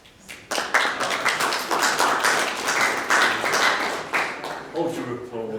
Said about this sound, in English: Hold your applause, please.